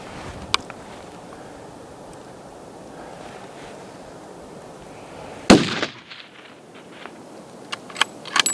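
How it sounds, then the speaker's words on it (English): A single loud rifle shot fired at a stag while hunting outdoors cracks sharply after quiet wind and rustling, followed by a brief fading echo and a few faint clicks. "He's going to shoot him. I'm gonna shoot him."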